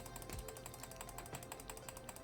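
A mouse clicks rapidly during a Cookie Clicker game session, a fast, even run of crisp close clicks with a couple of dull low knocks underneath.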